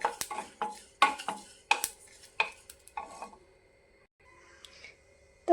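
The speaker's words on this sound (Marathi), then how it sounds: "तीळ पण चांगले खमंग भाजून घेऊया." Sesame seeds dry-roasting in a pan of roasted masala, stirred with a spatula: a close series of sharp scrapes and clinks against the pan in irregular bursts, thinning to faint scraping toward the end.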